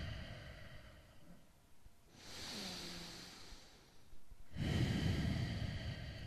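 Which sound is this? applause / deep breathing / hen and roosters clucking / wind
deep breathing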